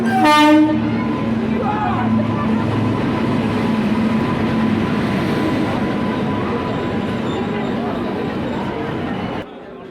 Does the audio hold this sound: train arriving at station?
yes